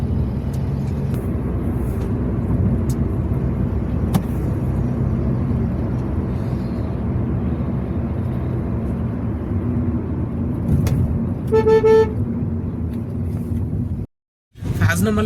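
A car drives through city office-commute traffic on a rainy-looking day, with a continuous engine and road rumble and a brief horn honk near the end. Some talk is faintly present.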